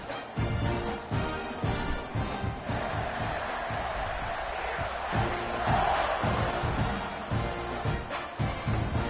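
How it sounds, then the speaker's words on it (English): A stadium crowd in a college football video game roars and cheers steadily at high volume, with a dense wash of noise that swells slightly and carries on throughout. "this crowd is feeling themselves after that last drive"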